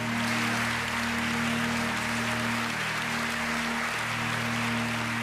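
Long, continuous applause from a large audience after a physics announcement of a new boson, a dense even wash of clapping with no pauses.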